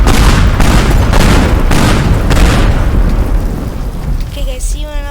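A big explosion set off in the destruction game Teardown, a loud, dense booming roar with several rolling bursts that fade out near the end.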